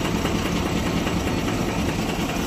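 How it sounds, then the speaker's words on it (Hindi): An Ashok Leyland BS6 dumper truck engine with an abnormal noise runs continuously nearby, a loud, steady, rough mechanical drone with no pauses and no speech. "इसके इंजन में आवाज आ गई है"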